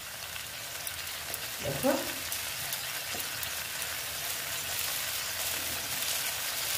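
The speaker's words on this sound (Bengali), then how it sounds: "পোস্তটা আমি ভেজে নিচ্ছি তেলটার মধ্যে।" Poppy seeds frying in oil in a home kitchen, a steady soft sizzle throughout with a brief clatter near the middle and a short spoken word.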